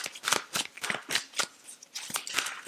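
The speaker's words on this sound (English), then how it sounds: "Let's get the rest of the cards out" Tarot cards are handled and laid out one after another in a quick, uneven series of crisp flicks and slaps, close and fairly soft, with no one speaking.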